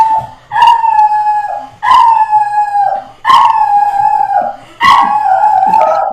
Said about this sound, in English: oh, Buster! Crazy dog